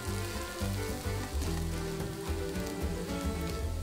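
Onion sizzles in a hot pan for fish curry, a dense, loud frying crackle that runs without a break, with low rumbling underneath and no voices.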